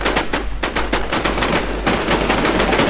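Rapid automatic gunfire from an Infestation video game match, dense overlapping bursts of shots firing continuously with loud, close reports and no pauses.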